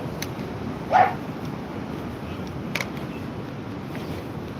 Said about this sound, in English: There's no control over the dogs at all.